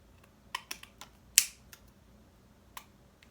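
Scissors snip through puppet-making material in a few quick, close, crisp cuts spaced irregularly over a quiet background, one cut louder than the rest.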